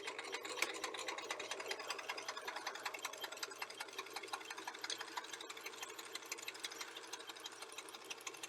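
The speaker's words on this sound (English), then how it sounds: "stitch along the edge of the seam, the opening" A sewing machine stitches a seam along the edge of a surgical mask, giving a steady, rapid mechanical stitching rhythm that runs continuously and close by, with no talking.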